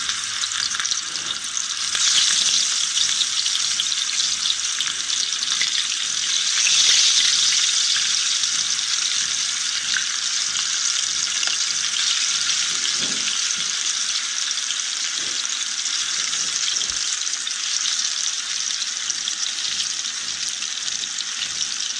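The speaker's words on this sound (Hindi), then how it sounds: "तेल में मछली डालते वक्त" Marinated fish frying in hot oil, a steady close sizzle with bright crackling throughout, swelling slightly as pieces go in, with occasional faint clinks and stirring, no voices.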